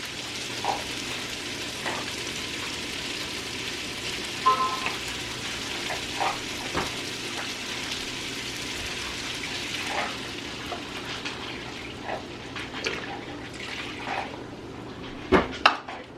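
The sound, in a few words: adding low-sodium broth to a sizzling pan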